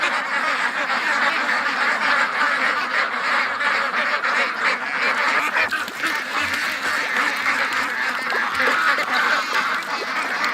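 A crowd of pushy Muscovy ducks swarms close around a dock, with dense overlapping quacks and splashing-like bustle running steadily throughout and no voices.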